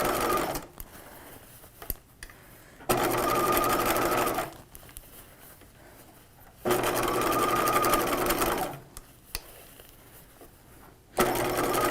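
A sewing machine stitches dress fabric for a 1950s shelf-bust dress, running in loud steady bursts of motor whir and needle chatter separated by quieter pauses, close by.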